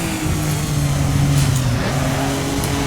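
Maserati 250F racing engine in a sim racing game, a steady loud drone climbing and dipping in pitch through an upshift into third gear, with no talk over it.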